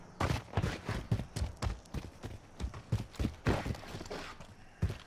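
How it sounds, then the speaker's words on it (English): Footsteps in the Call of Duty Warzone video game patter in a steady, quick rhythm at close range, mixed with other in-game thumps and noise, with no talk over them. "Thought I just heard footsteps."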